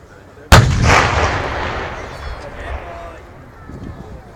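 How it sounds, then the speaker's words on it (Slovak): A single booming tank gun shot goes off sharply during a live-fire military exercise, followed by a long rumbling echo that slowly fades, heard from a moderate distance. "Čiže nasledoval výstrel Stanku."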